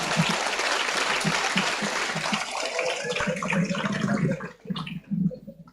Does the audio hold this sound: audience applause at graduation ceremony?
yes